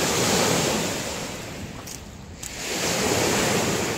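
Surf washing onto a driftwood-strewn beach at Port Bruce on a foggy morning, a steady broadband roar that dips briefly in the middle before swelling again, with some wind buffeting the microphone.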